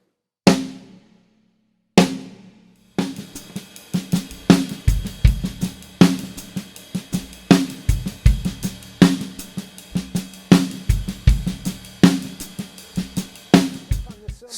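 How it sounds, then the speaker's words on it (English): A drum kit plays accented notes, starting with two loud, isolated hits and then moving into a steady, driving groove with strong, regularly repeating accents, played close and alone. "And an accent sounds like this."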